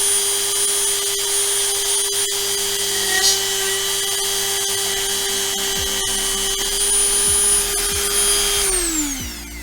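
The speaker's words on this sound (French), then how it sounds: "Et on perce." Drill boring into an HP 305 ink cartridge: a steady, loud motor whine holding one pitch for about nine seconds, with scraping as the bit bites, then winding down sharply at the end.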